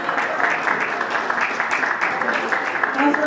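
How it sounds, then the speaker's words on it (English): Guests clap for a newly married couple at their wedding as they sign, a moderate, continuous patter of applause with faint voices murmuring underneath. "Give them a round of applause"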